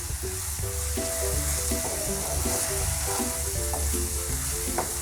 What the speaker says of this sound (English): the chopped coriander leaves, start mixing them gently and saute.